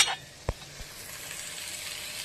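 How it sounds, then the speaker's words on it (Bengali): Spice tempering for lentil dal fries in hot oil with a steady close sizzle, opening with a louder burst and marked by a single metal clink partway through. "আমি হচ্ছে ভেজে ডালের সম্বার দেব"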